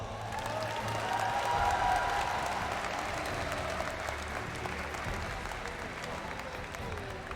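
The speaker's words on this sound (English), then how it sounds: "Can we give them a round of applause?" An esports arena audience applauds and cheers a team after a knockout game, a broad sustained wash of crowd clapping with distant voices, moderately loud and steady throughout.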